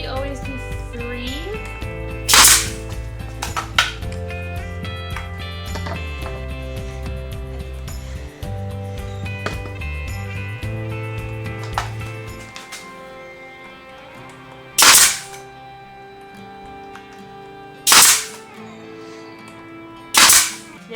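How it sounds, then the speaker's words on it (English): A pneumatic nail gun fires nails into a wooden sign frame, a few sharp loud cracks spaced several seconds apart, with a low background hum between shots. "Nail gun is so easy."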